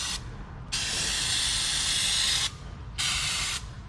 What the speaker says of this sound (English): come in here with some brake clean and spray all that old motor oil off